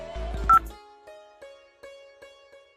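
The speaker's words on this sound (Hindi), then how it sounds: "फोन मिलाइयो तन्नक" Telephone keypad dialing tones in a Haryanvi village household: a short burst of tones, then steady evenly spaced beeps that continue at a moderate level with no talking.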